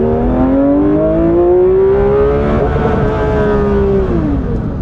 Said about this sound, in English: Now I'm going to do a second gear roll on from 30 to 70 in the ST.